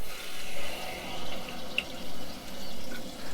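Hot water flows through an opened valve into a Buderus gas boiler, a tap-like hiss that swells and eases in waves, with a brief faint click partway through.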